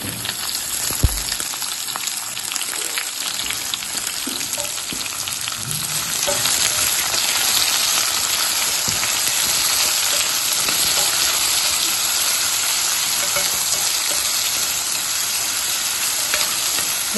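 Chopped small onion fries in a hot pan with a steady, loud, close sizzle that swells after a few seconds and holds on alone.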